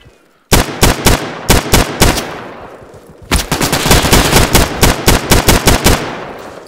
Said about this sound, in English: I'm just shooting in the general direction